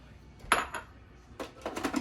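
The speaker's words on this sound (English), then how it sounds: "I cut up into cubes. And I'm going to drop those into my food processor" Cold cubed butter from a single stick dropped into a food processor bowl: two short clusters of hard clattering knocks, the first around a sharp pair of thuds, the second a quick patter of several pieces, close and fairly quiet with no talk.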